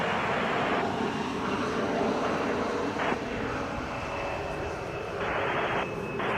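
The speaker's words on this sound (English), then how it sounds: "Once this Boeing 767 lands" A Boeing 767 lands at Chicago O'Hare airport. Its engines make a constant loud jet roar and rumble, with a thin whine and shifting layers of wind noise throughout, and no voices.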